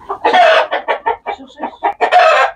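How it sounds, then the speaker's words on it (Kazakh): Several domestic chickens clucking in a coop, close and fairly loud, with irregular bursts of calls and short pauses between them and no talk. "Ол басқа тауық."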